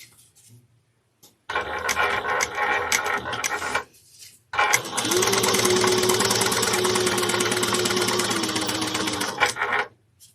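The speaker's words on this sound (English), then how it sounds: "I'm going to baste this together, wrong sides together." A sewing machine bastes a rope handbag in two runs, a short burst and then a longer steady stretch of fast rhythmic mechanical whirring and clatter, loud and close with no talking.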